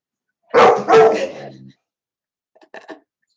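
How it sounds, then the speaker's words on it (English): Indoor dogs let out two loud, close barks in quick succession, then a few fainter yips follow after a short pause. "The dogs are going to play up now because I'm live."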